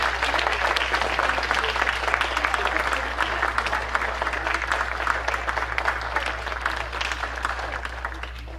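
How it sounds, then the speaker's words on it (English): A standing audience applauds at a school alumni Hall of Fame awards ceremony, sustained dense clapping that stays even throughout over a low steady hum. "if we can all stand up and give them a round of applause for their stories"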